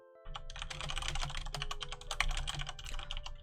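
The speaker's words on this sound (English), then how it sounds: "my typing is probably really loud" Loud, rapid typing on a computer keyboard: a dense run of sharp, close key clicks and clacks with an uneven rhythm, heard alone.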